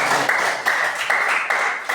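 A classroom audience claps after a group presentation in a tenth-grade mathematics lesson, steady moderate applause filling the room for a couple of seconds.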